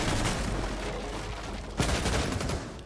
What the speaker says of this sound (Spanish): Se han registrado dos disparos míos.